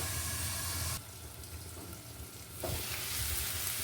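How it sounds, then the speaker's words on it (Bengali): Potatoes fry in a pan with a dense crackling sizzle. It dips quieter for a moment midway, as though the pan were covered, then swells back to a loud, steady hiss. "আলু ভাজা আমাদের প্রায় কমপ্লিট।"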